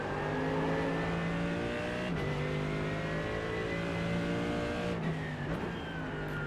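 A Mercedes GT3 race car in iRacing at steady high revs, a strong droning engine note with shifting pitch as it changes gear, heard alone and continuous.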